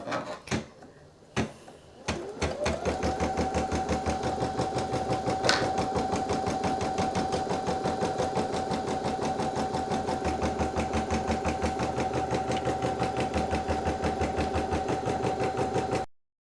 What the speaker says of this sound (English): Lower the presser foot and start embroidering.